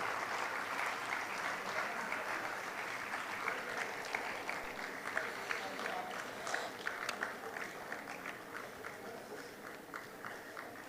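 Sustained applause from an audience at a national eminence award ceremony, a dense, even patter of many hands clapping that holds steady throughout.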